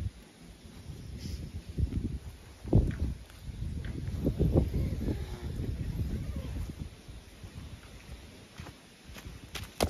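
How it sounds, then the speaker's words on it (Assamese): Strong wind buffets a petrol pump at night, gusting and rumbling against the microphone in uneven surges. A faint voice sits low beneath the blowing. "খাতৰনাক বতাহ দিছে চবফালে"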